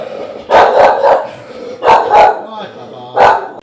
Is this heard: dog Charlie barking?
yes